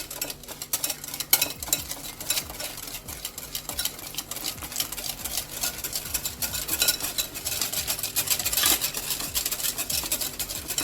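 Cupcake batter being mixed in a bowl while oil is added, a steady run of wet scraping and clinking strokes, close and continuous with no talk.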